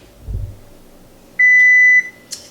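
A kitchen oven timer gives one long electronic beep as a batch of yeast dinner rolls finishes baking, loud and close, followed by a short higher chirp, with a soft thump just before.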